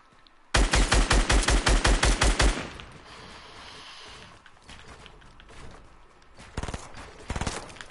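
Video game gunfire, a loud sustained burst of rapid automatic shots, then quieter background noise and a few more bursts near the end.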